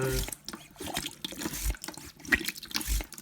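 Water gurgles and splashes as it drains out of a Bosch Serie 6 washer dryer, an uneven trickling stream close by, with a person talking over it.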